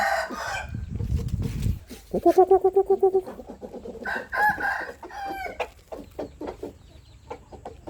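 Burmese gamecock roosters and hens in a garden cluck and call, with a loud, close rooster crow rising in rhythmic pulses midway, followed by more scattered clucking and chatter.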